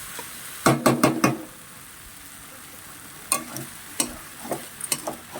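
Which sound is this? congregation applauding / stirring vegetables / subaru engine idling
stirring vegetables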